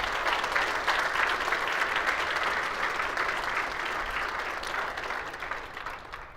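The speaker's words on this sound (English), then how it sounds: "Ladies and gentlemen, I think that deserves another round of applause." A large audience at a business conference's formal handover session applauding the task force chairs: dense, continuous clapping that blends into a full roar, holding steady and slowly tapering toward the end.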